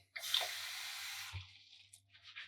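Skim milk, 300 ml, poured into a container, a brief close liquid stream that runs steadily, then tapers off into a few splashy trickles, quiet, with no talk.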